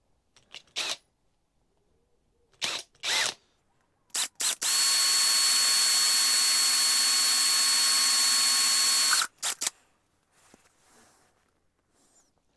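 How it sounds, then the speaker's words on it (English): A power drill runs steadily through tough plastic for about five seconds with a high whine, bracketed by a few short clicks and handling bumps. "So next then we're going to drill the holes."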